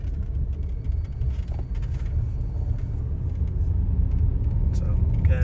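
Steady low road rumble inside a moving Audi Q7 or Volvo XC90, muted and even throughout with faint interior creaks and ticks, quiet cabin with no one speaking.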